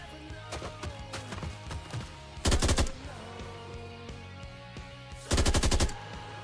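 Automatic gunfire in a first-person shooter game being developed, heard as two short rapid bursts of shots over a steady background hum and faint clicks.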